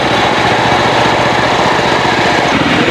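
A homemade cot car powered by a Honda CD70 engine runs loud and close, its small motorcycle engine putting out a steady rapid chugging putter without pause.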